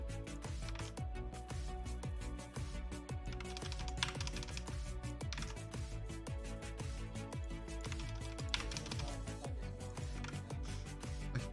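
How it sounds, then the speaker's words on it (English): Dense, steady typing on a computer keyboard during a game jam stream, rapid clicks running continuously over a tonal background hum. "just typing."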